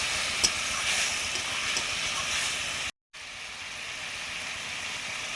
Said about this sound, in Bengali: জল দিয়ে মশলাটা কষিয়ে নিচ্ছি।